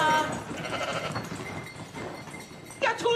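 Two sheep brought indoors bleat in a few short, nasal calls at the start and again near the end, over a faint background of low voices.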